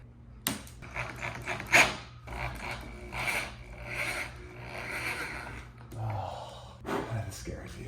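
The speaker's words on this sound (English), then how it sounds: "That drill bit is so sharp, it just sucks in and gets all this material hugged out." A sharp drill bit grinds and rasps through new car interior plastic in uneven bursts, with scraping and crunching textures and a sharp impact early on, fairly close.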